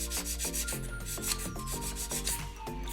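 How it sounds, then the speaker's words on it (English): A 120 grit file rubs back and forth along the side wall of a fingernail, giving close, steady scraping strokes in a regular rhythm. "I do my side wall first with the 120 grit file"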